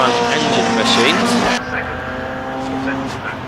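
Historic Formula Junior front-engine race cars battling at Brands Hatch GP circuit, a loud, close engine roar that drops in level as they pass, then continues as a steadier engine drone, with commentary talking over it.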